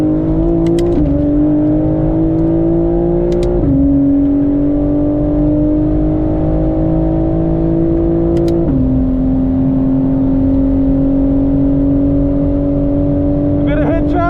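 BMW M4 fitted with a new aero kit, its engine loud and close as it revs on a race track during a practice session, pitch climbing and dropping with gear changes, a driver talking over it.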